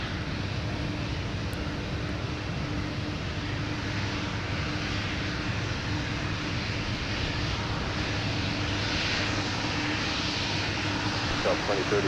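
A jet airliner takes off from Minneapolis–Saint Paul airport, giving a steady, broad engine roar held at constant loudness throughout, with low engine drone underneath; no voices are heard.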